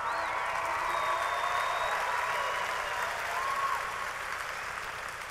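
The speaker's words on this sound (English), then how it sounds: "Yeah, you can clap." Audience applause fills a hall at the 2014 SkillsUSA national conference during a speech by Lowe's executive Troy Dally, a steady, dense wash of many hands clapping at an even level throughout.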